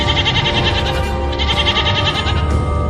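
A tethered young goat bleats loudly and insistently, straining at its rope, its high wavering cries repeating in quick succession without a break.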